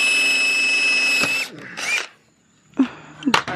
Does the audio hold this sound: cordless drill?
yes